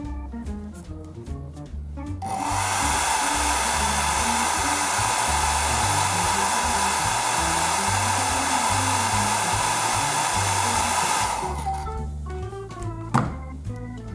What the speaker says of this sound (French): si je mettais un petit coup de sèche-cheveux, ça va le faire sécher plus rapidement